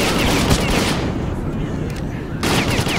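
Gunfire in a WWII shooter game set in Pripyat comes as loud, dense automatic bursts with overlapping shots, easing briefly in the middle before resuming at full intensity.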